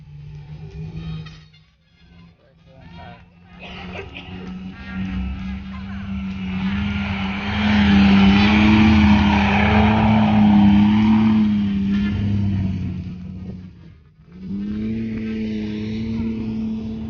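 A tank at a Desert Storm tank show at the Ontario Regiment Museum drives past with a deep, droning engine rumble that swells to a loud peak mid-pass, dips briefly, then resumes close by.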